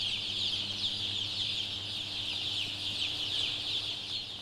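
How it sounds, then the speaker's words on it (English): Chickens on a crowded factory farm cluck and chatter in a dense, continuous din, many birds blending into a steady wash of sound with a low mechanical hum beneath. "Chickens are by nature social, curious, and intelligent animals."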